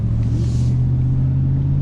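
A pickup truck engine gives a deep, steady low rumble, close and loud, pulling evenly for the whole stretch with no talking over it.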